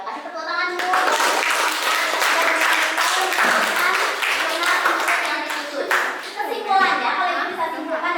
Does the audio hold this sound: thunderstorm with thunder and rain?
no